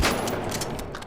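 Gunfire in the online shooter game The Finals cracks out in a fast, loud burst of shots, close up and filling the short moment without any talk.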